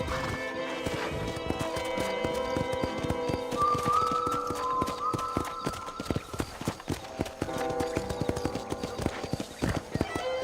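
Horse hooves clip-clopping at a steady trot with a whinny, from the video game Red Dead Redemption Remastered on PS5, close and clear over a soft musical score.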